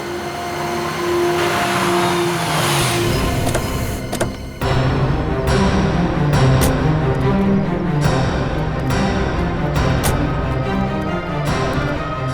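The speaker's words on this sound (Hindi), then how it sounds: "बस आप यहीं गाड़ी रोक दीजिए।" A car on the road with a steady engine and tyre rumble, passing through changes in speed and easing toward a stop, with brief clunks and no talking.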